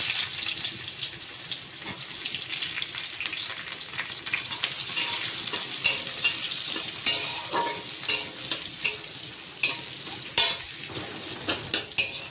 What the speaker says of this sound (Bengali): জিরেটা আমার ফ্রাই হয়ে গেছে, পেঁয়াজটা দিয়ে দিলাম